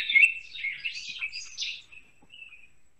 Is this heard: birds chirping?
yes